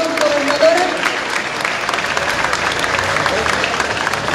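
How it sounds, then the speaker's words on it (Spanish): Crowd applauding Governor Indira Vizcaíno at a community dialogue event in the Ramón Serrano neighborhood, loud continuous clapping throughout with a brief voice or shout near the start. "Démosle un fuerte, pero muy, muy fuerte aplauso."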